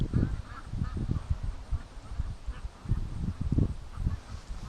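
A flock of free-range ducks calls in irregular bursts of honking quacks near a lake, overlapping voices rising and falling close by.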